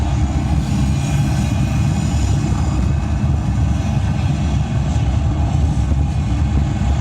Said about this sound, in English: We have main engine start. 5, 4, 3, 2, 1. Lift off.